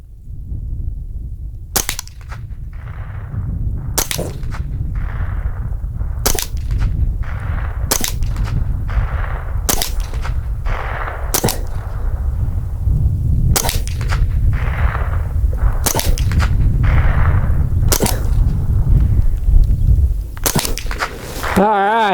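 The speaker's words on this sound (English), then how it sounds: "First up to bat is that Winchester ammo, the Wildcat. We're going to shoot the target on the left" Winchester Wildcat SR .22LR rifle firing Winchester Wildcat ammo at a target: about ten sharp, loud shots spaced roughly two seconds apart, each a crisp crack over steady low background rumble, ending with a brief metallic rattle.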